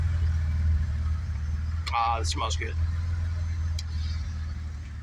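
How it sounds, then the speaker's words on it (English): Idling BMW 535i E28 from 1988 fitted with a Super Sprint exhaust, a steady low rumble running throughout, briefly joined by a voice speaking over it. "This is the new Super Sprint exhaust we just got on this."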